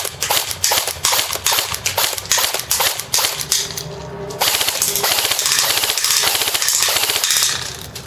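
A tan TSD SRC M4 airsoft rifle fires at man-sized targets about 100 feet away, first as a string of sharp separate semi-automatic shots, then a continuous rapid full-auto burst, loud and close with no talking.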